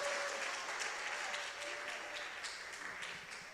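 An audience at an early-morning church service applauds a second-grade child, with steady, moderately loud clapping spread across the room and no voices.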